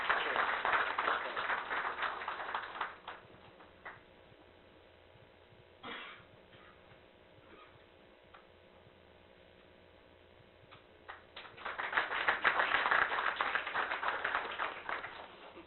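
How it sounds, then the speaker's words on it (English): Audience applause at a seminar on SME funding and capital markets, marking a memento presentation. A dense round of clapping fills the opening seconds, fades to a quiet stretch with scattered taps, then swells again into a loud closing burst. "A good round of applause, gentlemen"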